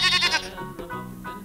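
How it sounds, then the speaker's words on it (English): A goat bleats in a few wavering, voiced cries within a children's vocabulary song. The first cry is loud and bright, and two or three shorter quavering bleats follow close together with nothing else behind them. "Goat,"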